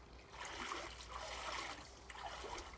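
Cold water runs steadily into an outdoor pool, a continuous close trickling and splashing rush with no pauses.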